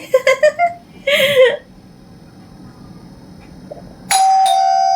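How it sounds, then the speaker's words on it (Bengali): Two short laughs or squeals come first, then after a quiet stretch a bright electronic doorbell chime rings out loud and close, announcing a parcel delivery. "এখনই আমার পার্সেলের কলিং বেল বেজে উঠবে"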